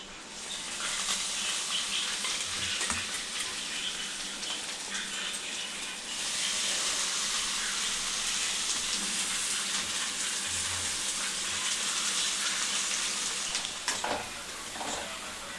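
Water is poured over puffed rice for upma, giving a continuous rushing, pattering wash that stays loud and close almost throughout, with a few soft knocks and no talk.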